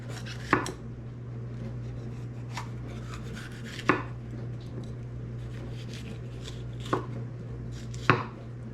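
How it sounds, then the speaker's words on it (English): Knife chopping a red pepper on a cutting board for canned coleslaw: four or five sharp, isolated chops spaced a few seconds apart over a steady low hum, with no talking. "And for the red pepper, I'm just gonna chop it up."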